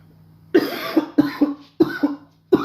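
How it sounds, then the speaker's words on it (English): A person coughs in four sharp, close bursts, most of them double coughs, with short pauses between and no talking. "I'm coughing more than I am talking in this chat at the minute."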